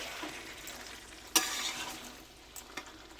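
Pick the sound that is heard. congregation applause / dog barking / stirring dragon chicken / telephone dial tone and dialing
stirring dragon chicken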